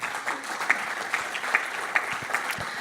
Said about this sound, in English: So a real round of applause to our new Chief Operating Officer.